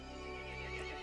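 A short, loud horse whinny from the video game Resident Evil Village, harmonic and wavering, heard up close.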